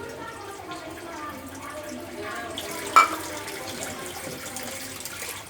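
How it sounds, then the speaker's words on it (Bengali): Water poured into a pot of curry being cooked for a baby, a soft continuous splashing stream, close by, with a brief louder splash midway. "আর একটু পানি দিব"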